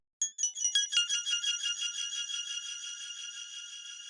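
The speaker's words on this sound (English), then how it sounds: "So I added Valhalla Supermassive, which is a delay unit, which can act as a reverb when you start to introduce warp and density" Bright bell-like synth notes fed through a Valhalla Supermassive delay set up as reverb with warp and density, a quick cluster of plucked tones smearing into a long shimmering wash that slowly fades, no voices.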